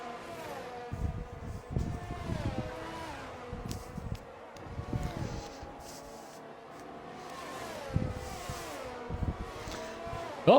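A Ferrari race car engine in a Formula 1 racing video game at the France round, a thin, distant whine rising and falling through gear changes, faint and unbroken, with no talk.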